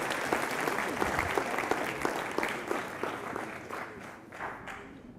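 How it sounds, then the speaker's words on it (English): An audience at the World Manufacturing Forum 2025 applauds the WMF president with fairly quiet, dense clapping, distinct hand claps standing out at first and the applause thinning and fading toward the end. "Let's have a round of applause to the president of the WMF"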